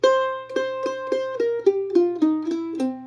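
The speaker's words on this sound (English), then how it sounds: "From here, maybe we could play a descending C lick like this." A bluegrass mandolin plays a descending C lick: about ten crisp plucked notes stepping downward in a steady, quick rhythm, close and clear with no voices.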